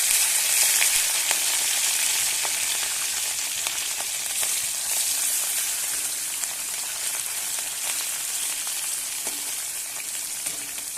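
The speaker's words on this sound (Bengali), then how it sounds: "পুঁটি মাছগুলো লাল লাল করে ভেজে নেওয়া হয়ে গেছে" Puti fish frying in hot oil, a loud, steady, hissing sizzle with fine crackling pops that holds throughout at close range, with no voices.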